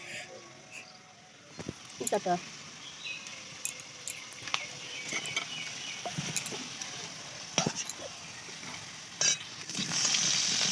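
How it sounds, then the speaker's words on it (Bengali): Potato pieces frying in oil on a home stove give a steady, soft sizzle. Scattered clinks and scrapes of stirring break through it, and the sound grows brighter and louder near the end. "মশলাটা করা হয়নি বলে আলু ভাজাটা একটু বসিয়ে দিলাম"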